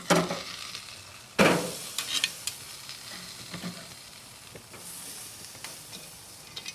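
Goat steak cooking on a charcoal grill over a dying fire, with a soft steady sizzle, an occasional sharper crackle and a few light clinks of grill tools nearby.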